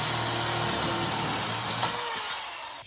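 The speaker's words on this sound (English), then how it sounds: "Cut the last little bit of this off, and this should fit in there." Power saw with a worn blade cutting a Jeep Cherokee cowl panel, a steady loud whine lasting nearly three seconds, with a brief scrape near the end before it winds down.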